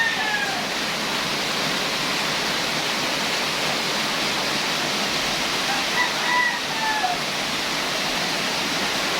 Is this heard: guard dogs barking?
no